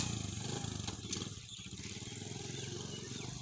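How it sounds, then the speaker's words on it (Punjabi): A motorcycle engine idles with a steady low rhythmic chug, loud and close, and briefly revs up around the first second before settling back to an even putter. "ਹੁਣ ਜੁਲਦੇ ਪਏ ਮੋਟਰਸਾਈਕਲ 'ਤੇ"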